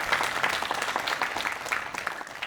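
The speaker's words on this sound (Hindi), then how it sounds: "तो एक बार जोरदार तालियां हो जाए।" Dense, steady applause from a theatre audience at Ravindra Manch in Jaipur during a cultural festival evening, many hands clapping continuously at close range with no break.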